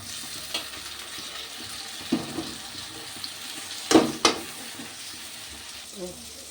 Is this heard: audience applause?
no